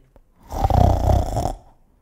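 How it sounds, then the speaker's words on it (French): A grandmother's loud, close snore: one long rasping inhale of about a second, with a faint click just before it and quiet after. "Et grand-mère ronflait"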